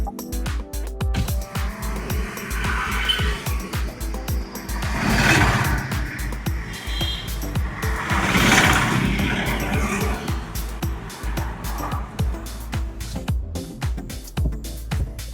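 Road and engine noise fill the cabin of a new Maruti Dzire with the windows open, a steady loud broadband rush with wind swells and a few louder surges, and no talk.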